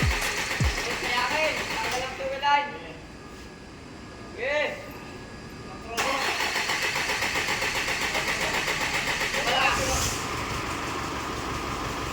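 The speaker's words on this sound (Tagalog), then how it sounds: "umaandar na ng maayos and then hindi na siya nangangatal kasi palyado nga ang makina" An Isuzu 4JJ1 diesel engine runs steadily after repair of a misfire, a continuous mid-pitched idle with a few brief revving swells, while people talk nearby over it.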